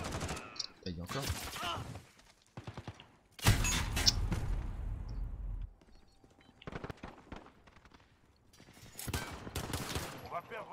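An enemy turret fires in the video game Call of Duty: Modern Warfare, with loud, close bursts of rapid automatic gunfire that come in several separate volleys with short gaps between them.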